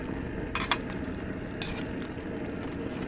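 Filipino ala pachamba, a dish later finished with tomato sauce and pineapple chunks, cooks in a pan with a steady low bubbling simmer and a few light clinks of a utensil against metal.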